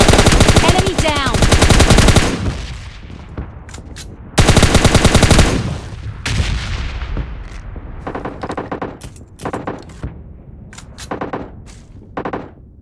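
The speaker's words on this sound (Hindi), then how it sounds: "जब मैं लूट रहा था तो मुझे बहुत सारी बाहर से फायरिंग की आवाज़ आ रही थी।" Gunfire in the mobile battle-royale game PUBG Mobile Lite, with bursts of automatic weapon fire and single shots. Loud close bursts come first, then scattered, fainter shots that sound farther off, with no talking.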